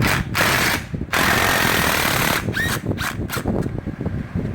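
A power tool loosens the intercooler clamps on a 2002 Ford F-350 with the 7.3 Powerstroke diesel, giving a loud, harsh, continuous whirring burst, a brief pause, then a longer burst breaking into irregular rattling pulses.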